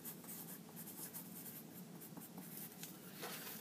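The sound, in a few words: drawing lines with a pen on paper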